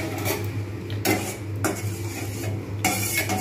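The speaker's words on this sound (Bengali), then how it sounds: "এবারে আমি উনুনটা জ্বালাবো, জ্বালিয়ে নাড়তে থাকবো যতক্ষণ না ক্রিস্টাল কালার আসে।" A mixture is stirred in a pot on a lit stove until it turns crystalline, with a spoon scraping and knocking against the pot in repeated strokes, close and clear over a low steady hum.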